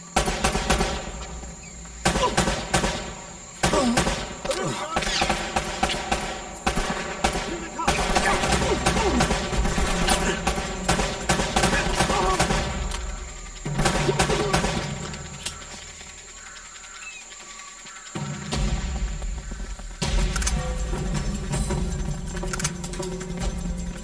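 Sustained gunfire in a jungle shootout from Uncharted: Drake's Fortune, with repeated sharp shot bursts and rattling volleys at varying distances over ongoing game ambience, broken by brief lulls.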